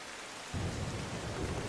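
Heavy rain pours down in Rajkot, Gujarat, a dense, steady hiss of falling water that swells suddenly about half a second in and stays loud and close, with no voices.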